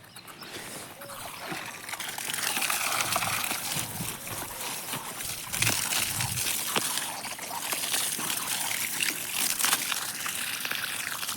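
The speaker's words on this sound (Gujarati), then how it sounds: "તો પાણી મુકાઈ છે લસણમાં" Irrigation water runs into a garlic field, a continuous splashing gurgle of flowing water heard close, fairly steady with occasional louder sloshes.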